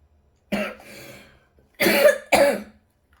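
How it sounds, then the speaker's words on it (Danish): A person coughs indoors, starting with one sharp cough and a breathy trailing sound, then two close, forceful coughs a moment later, near and alone without talk. "jeg hoster faktisk også"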